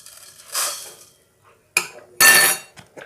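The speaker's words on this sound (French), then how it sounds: "Donc on va commencer par diluer notre farine." A tablespoon stirs flour into 700 ml of lukewarm water in a bowl for no-knead bread. A few close bursts of scraping and clinking against the bowl are separated by a brief quiet gap, with no one speaking.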